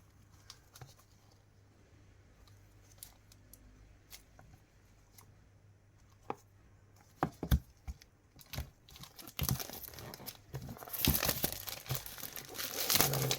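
Packaging for a Dragonhawk Fold 3 being unboxed. Soft scattered taps and rustles build into dense crinkling and tearing of plastic and paper, close and fairly quiet, with no talking.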